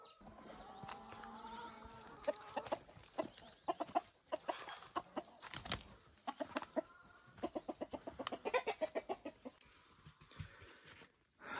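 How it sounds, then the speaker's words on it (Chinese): Roosters crow in the morning in a quiet mountain village, several drawn-out calls alongside quicker clucking bursts, moderately near against a calm background. "山里面非常安静，就是早上这些公鸡把你叫醒了。"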